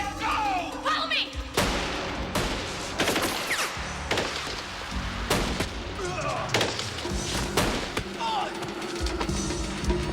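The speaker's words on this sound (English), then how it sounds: "These fucking Trancer guys come running in with machine guns and Jack's like, bang, bang, bang, bang." Gunfire scene from the film Trancers III: dense, loud bursts of machine gun and rifle fire with booming impacts and explosions, plus action-movie score and shouting voices.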